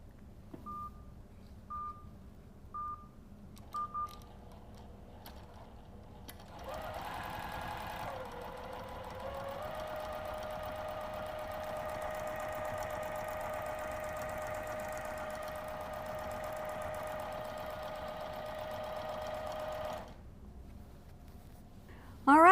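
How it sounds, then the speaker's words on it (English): A Surestitch Elite sewing machine beeps a few times, then settles into a steady, moderately loud hum as it stitches at an adjusted speed. The hum runs unbroken for about thirteen seconds before stopping. "hitting the on-off button on here and then adjusting the speed until we get the stitch look that we want"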